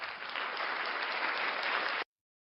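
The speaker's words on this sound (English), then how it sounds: "Regular applause." Steady crowd applause from a stock sound effect, a dense even wash of clapping holding at one level for about two seconds, then cutting off abruptly into silence.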